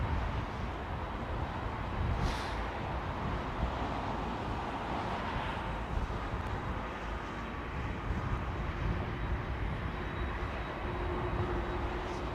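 An aircraft passes at London Heathrow Airport, a broad, distant jet roar that swells slightly and holds steady throughout, faint and continuous with no voices over it.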